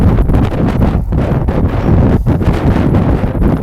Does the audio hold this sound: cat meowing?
no